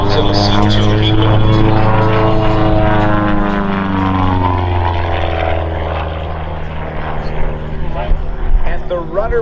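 Long-EZ propeller aircraft performing aerobatics at an air show, a loud continuous engine drone with shifting pitch as it maneuvers, heard under a steady announcer's commentary.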